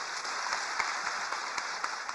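An audience applauds students, a short, steady wash of many hands clapping at once, fairly distant and even in loudness throughout.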